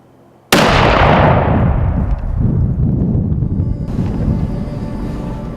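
A single rifle shot fired while deer hunting at a Montana ranch cracks out suddenly and loudly, then rumbles and echoes away over open country.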